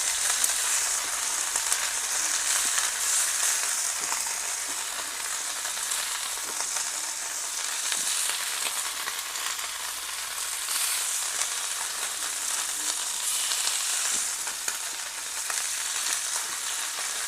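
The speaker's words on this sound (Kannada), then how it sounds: "ಇದೇನು ಆ ಥರನೇ ಈ ಥರನೇ ಹಾಕಬೇಕಾಗಿಲ್ಲ, ಫ್ರೈ ಆದರೆ ಆಯ್ತು ಅಷ್ಟೇ." Marinated spicy prawns frying in coconut oil on a tawa, a dense, continuous, close sizzle that stays even throughout with no voices.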